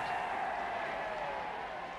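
A large crowd waiting in the rain cheers and applauds Prime Minister Chamberlain's return, a steady distant roar of clapping held under a narrator's voice.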